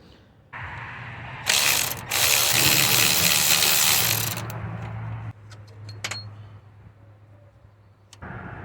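Ratchet clicking on the 19mm belt tensioner nut of a Toyota RAV4, a close run of rapid metallic pawl clicks in bursts, with quieter single clicks and pauses in between.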